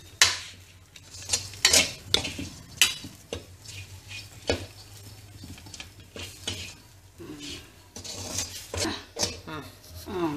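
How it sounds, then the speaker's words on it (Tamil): Tamarind sautéing and being stirred in a pan for Gongura pickle, with repeated scraping stirs and clinks of a spoon against metal over a soft sizzle, close by, with a low steady hum underneath. "பாருங்க புளியை நல்லா ஃபைவ் மினிட்ஸ் நல்லா வதக்கியிருக்காங்க"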